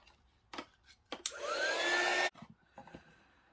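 A handheld dryer blows steadily for about a second to dry glue on a napkin-covered paper envelope folio, a loud whooshing whir that starts abruptly and cuts off, with faint handling clicks before and after.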